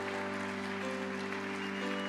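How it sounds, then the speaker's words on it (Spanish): Church congregation applauds during a worship service, a steady rush of many hands clapping over a sustained droning keyboard or organ tone, even and continuous. "Dale un fuerte aplauso al Señor si crees esto"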